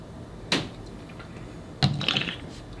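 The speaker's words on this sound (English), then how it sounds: "I don't know why I did that slurp thing." Two short, sharp slurping sips of rye whiskey, close and fairly quiet, the second followed by a brief wet trailing sound.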